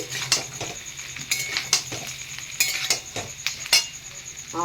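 Metal utensil scraping and clinking in a pan while chicken pakoras are stirred with fried onion and capsicum, a light sizzle underneath; repeated close, rhythmic scrapes with no talk.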